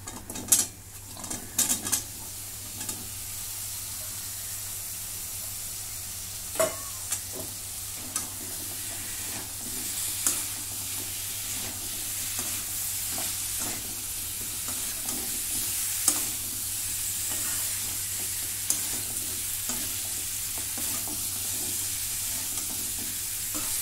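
Potatoes and cauliflower fry in a pan with a steady sizzle while a utensil stirs them, giving intermittent scrapes and clinks against the metal over nearly half a minute, no voices.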